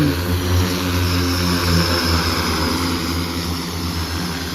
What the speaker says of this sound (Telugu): చాలా చాలా బాగుంది డ్రోన్